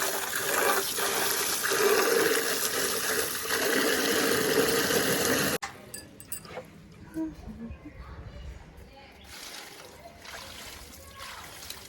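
Water gushes from a bucket onto a motorbike in a steady, splashing pour for about five seconds, then cuts off abruptly, leaving faint dripping and quieter room sounds.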